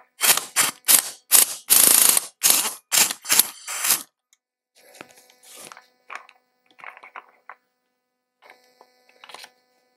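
A ratchet clicks in quick, loud bursts while unscrewing a reverse-thread part on a Stihl 028 chainsaw, about a dozen strokes, followed by fainter, scattered metallic handling sounds.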